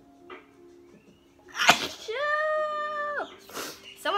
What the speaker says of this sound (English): I sneezed 3 times.